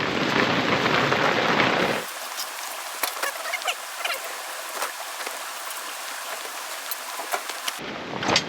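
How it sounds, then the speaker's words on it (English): Simulated rain from sprayed water drumming onto a high handcrafted wooden ceiling under restoration, a steady hiss of scattered droplets with sharper individual splats, framed by louder broadband rushing at the start and end. "here comes the real rain. But we simulated it."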